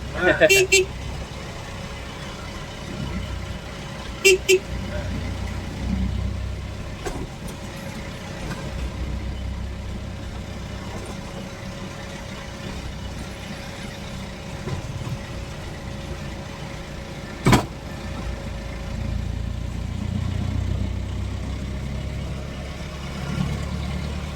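Engine of an old Isuzu Elf truck with reverse-opening doors and a column shift, a steady low rumble running throughout while driving, with people talking and a few short knocks and clicks over it.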